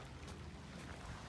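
Steady low rumbling wind buffeting the microphone outdoors on Prevost Island, a continuous broadband roar with no voices.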